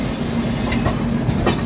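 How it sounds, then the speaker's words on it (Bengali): A train rolls into Lucknow station, a loud continuous rumble of carriages with wheel squeal and clicking over rail joints, heard close from on board. "এই এখন আমাদের ট্রেন লখনৌতে ঢুকছে"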